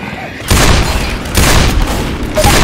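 Powerful Magnum pistol shots from the Left 4 Dead video game, three loud booming blasts at uneven intervals, each with a long, dense tail, in a noisy game mix.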